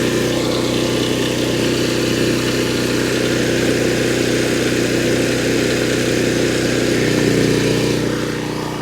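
A Predator 4400 watt inverter generator runs steadily near a camper, its even engine drone and hum continuing without pause, rising slightly toward the end as the camper's air conditioning load comes on.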